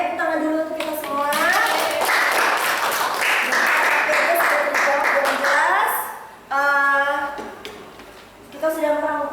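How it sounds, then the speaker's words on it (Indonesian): A classroom of children claps together in a dense, loud burst lasting several seconds, with a teacher's voice and children's speech heard before and after the clapping. "Oke, tepuk tangan dulu untuk kita semua."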